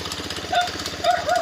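A motorcycle engine with a worn spring that needs replacing runs at idle, giving a steady, rapid mechanical clatter with faint metallic squeaks on top, close up and without speech.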